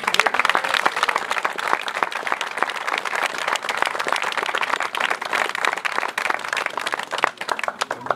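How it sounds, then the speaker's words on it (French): Dense, continuous audience applause at a village festival in Val de Chalvagne: many hands clapping loudly and evenly for about eight seconds, with a faint crowd murmur and no speech. "Je vous demande de les acclamer bien fort"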